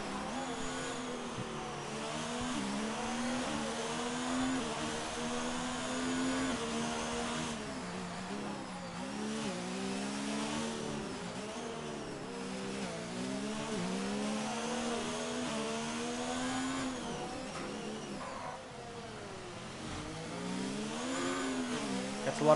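Formula 1 cars race around the Singapore Grand Prix street circuit in F1 2019, their high-pitched engines screaming steadily as they rise and fall through gear changes, with several cars overlapping at a steady, moderate level.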